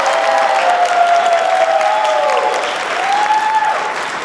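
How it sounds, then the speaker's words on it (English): Conference attendees applaud at a closing ceremony, a loud, continuous wash of clapping with some cheering mixed in, and sustained whistle-like tones gliding above it. "So one more round of applause, guys."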